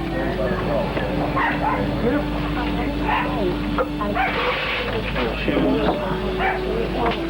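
Three dogs yip, whimper and bark amid a busy, noisy scene, with people talking over them and a steady hum in the background.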